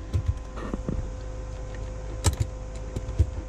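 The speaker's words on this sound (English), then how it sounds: "If I move the shifter" Automatic gear shifter in a Toyota Hilux being moved through its positions, a few soft clicks and clunks over a low steady cabin hum, close by and fairly quiet.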